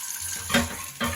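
Hot water runs from a tap in a steady hiss, with a couple of louder splashing surges as the flow hits something.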